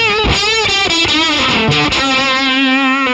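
Bass notes run through a TWA Dynamorph DM-02 envelope-controlled harmonic generator pedal on full synth effect, buzzy and harmonically rich, sustaining loudly with a few note changes and no pauses.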